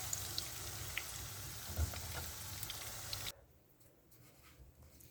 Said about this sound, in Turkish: Yine aynı şekilde diğer hamurlarımızı tavamıza alarak pişirmeye devam edelim.